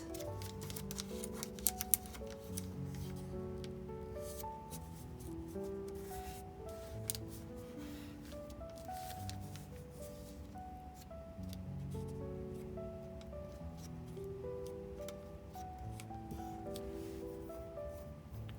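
Origami paper being folded so an edge meets the center crease, giving soft crinkles, rubs and light crisp creasing taps that continue steadily at close range with no voices.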